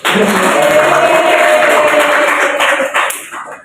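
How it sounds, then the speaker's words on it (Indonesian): A loud burst of clapping from a group of people in a classroom microteaching session, sustained for a few seconds before tapering off. "Tepuk tangan untuk kelompok kambing."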